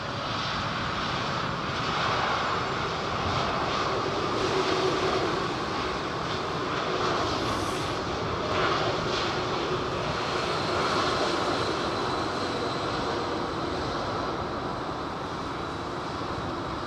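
A widebody airliner powered by General Electric CF6 engines comes in to land at Heathrow, a loud, steady jet roar that holds evenly throughout with no voices.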